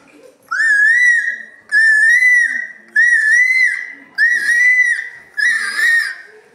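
A voice whistles five rising, warbling calls in imitation of a koel, each about a second long with brief pauses between, loud and close.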